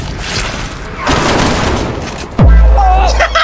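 Rapid gunfire in Resident Evil 6 crackles for a couple of seconds, then a bomb goes off with a loud, deep booming blast that rumbles on, with brief voices in the background.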